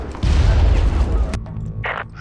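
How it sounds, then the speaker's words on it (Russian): A grenade goes off in the shooter game Far Cry as a loud, deep booming blast that rumbles for about a second, then cuts off into quieter background noise. "Ложись, граната!"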